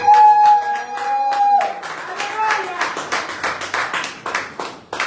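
Church congregation clapping together, a loud rhythmic burst of many hands that grows dense after a sung or called phrase, with voices over it.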